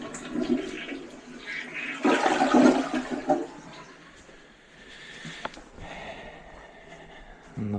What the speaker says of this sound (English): let's listen to it dumping into the sewer